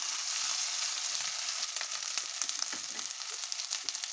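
Garlic and ginger fry in oil in a pot, a dense, steady sizzle heard up close with occasional pops and stirring scrapes, without any talking.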